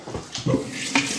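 A kitchen tap runs water into a plastic bowl in the sink, a close, splashy gurgling stream that swells in short surges over a second or so.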